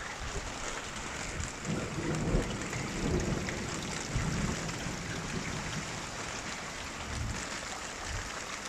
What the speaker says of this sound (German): Dieser Regen, der vom Dach kommt.